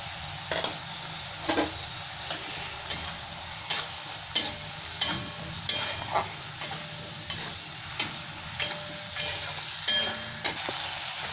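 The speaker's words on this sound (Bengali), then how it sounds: "একটু পেঁয়াজের সাথে ভেজে নেবো ভালো করে।" Grated tomato frying in a pan with onion, ginger and garlic, giving a steady close sizzle broken by regular stirring scrapes every second or so.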